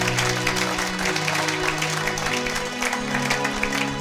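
A church congregation applauds continuously, a thick wash of claps under sustained organ-like tones, steady and fairly loud throughout.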